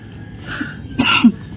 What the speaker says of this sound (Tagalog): Ubo ka ng ubo.